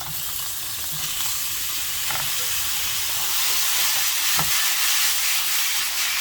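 Sweet potato stems sizzle steadily in hot cooking oil in a pan for a braised cutlassfish dish, a loud continuous frying hiss with faint crackles and no talking.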